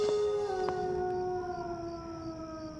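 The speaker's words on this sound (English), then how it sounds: "Just a big wolf-like dog." A big wolf-like dog lets out one long, loud howl close by, held for a few seconds and sliding gradually lower in pitch, with no voices.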